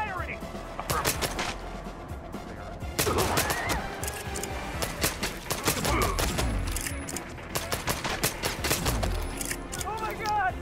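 Heavy gunfire in the Hitman stealth game, repeated rapid shots and crashes in irregular bursts, loud and close and continuing for several seconds, with a voice talking over it.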